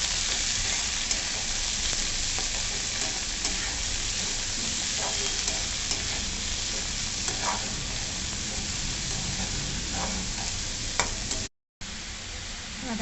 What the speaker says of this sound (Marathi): आता आपण अगोदर शेपू चांगला परतवून घ्यायचा तेलावर।